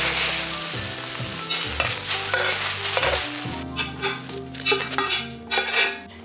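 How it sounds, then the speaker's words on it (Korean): A spoon stirs teriyaki sauce with dissolving sugar, sake and roasted vegetables in a pan on the stove, with steady sizzling and bubbling plus scraping and clinking against the pan, loud and close. "설탕 녹을 때까지 저어주시고"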